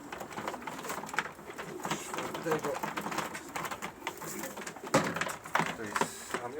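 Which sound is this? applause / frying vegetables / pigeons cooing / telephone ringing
pigeons cooing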